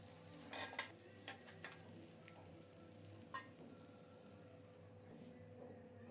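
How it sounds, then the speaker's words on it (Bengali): Pabda fish fry in oil with a faint, continuous sizzle, broken by a few soft clinks and scrapes of stirring in the pan. "মাছগুলো লাল লাল করে ভেজে নেব।"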